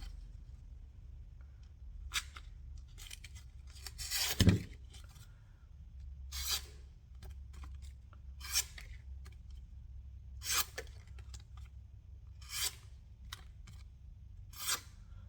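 A jigged bone Rough Rider peanut pocket knife slices through thicker paper in a series of crisp, close rasping cuts spaced a second or two apart, with one louder rustle early on and no talking.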